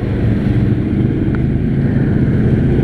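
A 570 ATV engine drones steadily and loudly up close during a first-snowfall trail run, with constant low rumble and wind buffeting.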